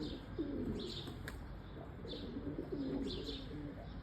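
Eke pigeons coo softly inside their coop, low throaty calls repeating every second or so, with occasional faint chirps and wing rustles in a quiet, close setting.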